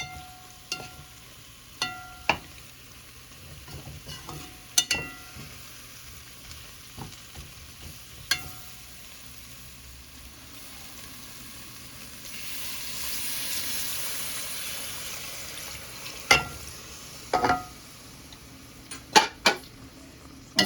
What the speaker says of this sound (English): I'll just quickly stir this in, and then we're gonna add the coconut milk